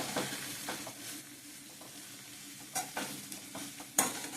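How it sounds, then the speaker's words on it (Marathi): Cowpea leaf greens being stirred in a pan, a steady soft sizzle of frying with scraping strokes that sharpen into louder spatula clinks near the end, close up with no voices. "भाजी चांगले हलवून घेऊया आपण व्यवस्थित."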